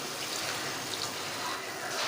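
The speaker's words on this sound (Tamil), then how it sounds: "ஒரு 3/4 டம்ளர் போல் தண்ணி ஆட் பண்ணிக்கிறேன்." Water poured into a cooking pot of banana flower and drumstick leaf kootu, a steady soft broadband trickle lasting about two seconds at low level with no voices.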